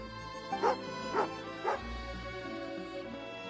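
A dog in the video game Genshin Impact gives three short, close barks about half a second apart over a steady music backdrop.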